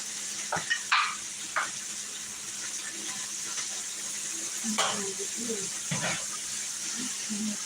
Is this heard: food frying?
yes